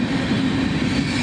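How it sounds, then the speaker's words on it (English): Long transfer train rolling past on railway tracks on the Dayton District, a loud, steady, close rumble of wheels and cars with a low drone throughout and no voices. "it's pretty long for a transfer train"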